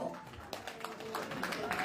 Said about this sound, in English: Please, a round of applause for our councillor.